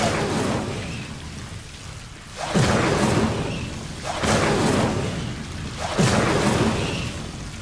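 Incendio fire spell cast in Hogwarts Legacy, three rhythmic whooshing bursts roughly every two seconds, each a sudden swelling roar of flame that fades before the next, over a constant noisy ambient bed.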